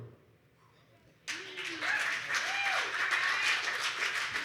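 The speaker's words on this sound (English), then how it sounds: "Give a round of applause to all the poets from tonight." A poetry slam audience breaks into applause for the poets, a sudden swell of steady clapping after a quiet moment, with a voice calling out over it.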